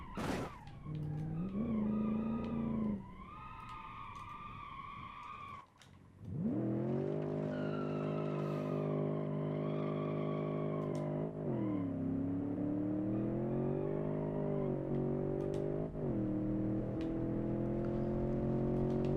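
Car braking hard into a corner in the Automation driving game, with a loud engine drone that drops in pitch and tires squealing and skidding, then the engine pulls through the turn at steady volume.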